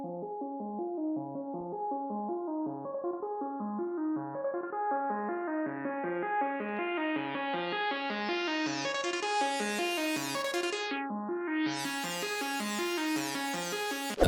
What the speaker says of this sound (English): it's just an EQ automation that makes the sound kind of slide in and then do this little stop and then go up